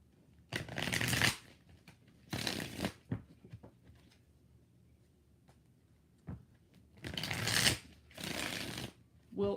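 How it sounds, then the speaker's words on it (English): Tarot cards riffle-shuffled in several bursts, four loud crisp flurries of flapping card noise with quiet gaps between, close to the microphone and separated by brief talk. "4 shuffles."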